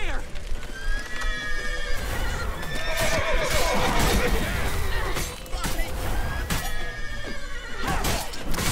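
A horse in The Witcher 3: Wild Hunt neighs and whinnies repeatedly over galloping hoof clip-clops, with game sound effects and voices talking throughout.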